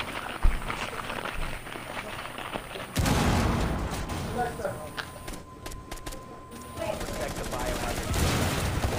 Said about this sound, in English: Pulled off the shotgun.